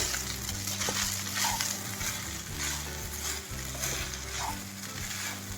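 Semiya upma being stirred with salt in a hot pan: a continuous close sizzle and frying hiss with steady scraping of a spoon through the vermicelli, a couple of brief clinks, and no voices.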